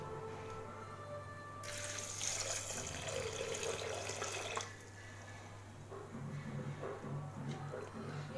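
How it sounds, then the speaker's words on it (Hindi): Water splashes and gushes into a metal pressure cooker holding kidney beans for a few seconds, then a softer trickle follows over a low steady hum. "अब इसमें मैं डाल दूंगी पानी।"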